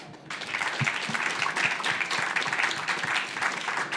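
An audience applauds at the close of a round table on circular-economy industrial startups in Pays de la Loire, dense, even clapping rising after a brief start and holding steady, fairly close.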